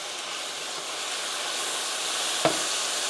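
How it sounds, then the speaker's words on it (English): Steady, bright sizzling hiss from spicy garlic ginger sauce coating pork in a hot frying pan, continuous and fairly close, with a brief clink near the end. "Hear that sizzle?"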